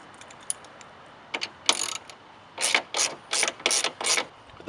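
Ratchet wrench removing a temporary bolt from a Teraflex Alpha HD hinged spare tire carrier hinge, a few scattered clicks then a run of rapid, evenly spaced ratcheting bursts, close and clear.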